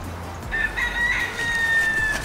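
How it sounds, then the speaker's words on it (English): A rooster crows once in Ybor, a drawn-out call rising and holding, heard from a moderate distance over low background hum. "it's those Ybor roosters"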